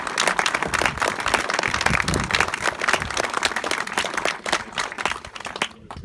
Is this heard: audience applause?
yes